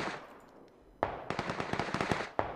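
Video game gunfire comes as a sharp crack, then a rapid burst of loud, close shots with bright, snappy attacks, and a final single shot after a short pause.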